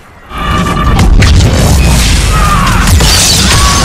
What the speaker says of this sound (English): we are getting two explosions